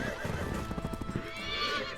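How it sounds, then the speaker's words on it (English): Horse hooves clip-clopping in the Wargroove video game, accompanied by a neigh or whinny, a brief cluster of hoof sounds at moderate level with no voices. "Clippy clop, clippy clop, clippy clop."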